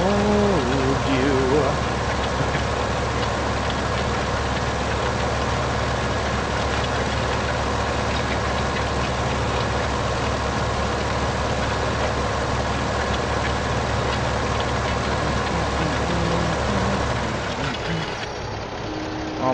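A tractor engine idles steadily in the Farming Simulator 15 video game on PS4 Pro, a continuous low rumble with a slight knock that holds throughout before dropping away near the end.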